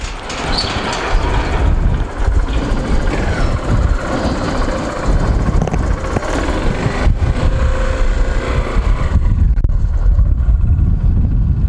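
Loud, continuous rushing wind buffets the microphone over a low Honda CB125F motorcycle engine rumble, steady for several seconds before easing slightly near the end.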